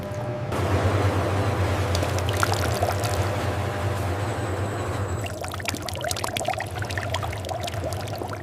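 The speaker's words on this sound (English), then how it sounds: "The paste becomes a smooth, flowing chocolate liquor" Smooth chocolate liquor flowing steadily inside a chocolate factory, a loud continuous pouring wash over a low machine hum, with a brief trickling change partway through.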